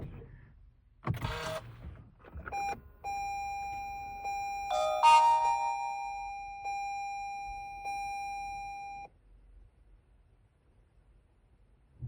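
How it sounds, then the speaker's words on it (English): Dashcam chime sounding as a car is started, a single clear ding near the middle that holds for several seconds, heard after the clunks of the car being started. "Now, when I first start the car, we should hear it ding."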